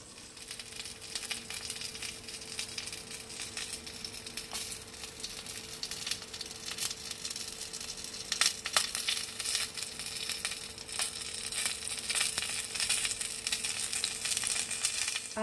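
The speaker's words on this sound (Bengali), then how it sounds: "এটা হচ্ছে মাছ ভাজার প্রসেস" Bhetki fish fries in a pan for a kasundi bhetki dish, giving a constant soft sizzle with scattered sharp pops and clicks, close by and moderately quiet, with no voices.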